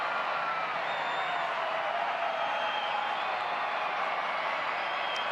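A large baseball stadium crowd at a Texas Rangers home game against the Royals keeps up a steady, even murmur, a broad wash of distant chatter with no distinct cheers or peaks.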